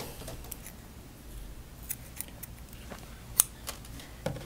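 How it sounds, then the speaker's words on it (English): Scissors snipping knitting yarn while finishing a crocheted diagonal afghan blanket, heard as a few faint, sparse clicks with one sharper snip against quiet room noise, close by. "And then I'm going to go ahead and cut my yarn."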